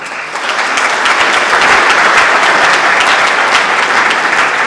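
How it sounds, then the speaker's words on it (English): A hall full of people at a medical network launch event gives hearty applause, a thick continuous patter of clapping that swells in after a brief softer start and stays loud and even throughout. "he's given a hearty round of applause"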